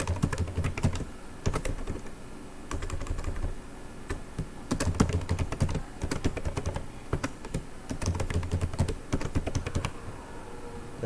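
Keys clatter on a computer keyboard in quick irregular bursts with short pauses, close and fairly loud, over a low steady hum, while someone registers a username on a website.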